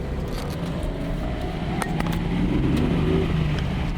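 A Nissan Z car engine with a snappy throttle and a leaking clutch, revving briefly and rising in pitch, heard fairly close with steady road-like rumble underneath and a few sharp clicks.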